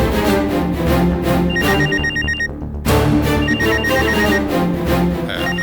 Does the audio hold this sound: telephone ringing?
yes